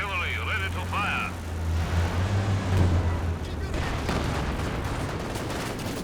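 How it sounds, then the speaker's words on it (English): A Red Army artillery barrage fires in Company of Heroes 2, a rough run of booming shots and rumbling blasts that follows a brief voice at the start and continues steadily at moderate loudness. "Red Army artillery ready to fire."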